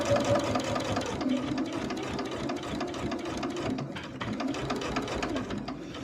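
A sewing machine stitches through a jelly roll rag quilt in a steady, continuous mechanical whir with a fast rhythmic needle chatter, close and loud, with no voices over it.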